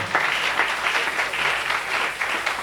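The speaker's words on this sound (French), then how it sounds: "Acclamons pour la parole de Dieu." A church congregation at a Sunday service bursts into sustained applause, a dense even wash of many hands clapping together for a few seconds, fairly loud and close, with no one speaking over it.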